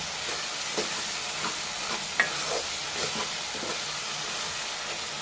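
Tomatoes, salt and chili powder being stirred in a frying brinjal tomato curry, a constant loud sizzle with soft, irregular scraping strokes of the spoon through the pan.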